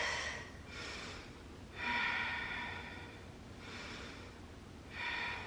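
Slow deep breaths during a yoga flow, about four long airy inhales and exhales, close and soft, with no talking over them.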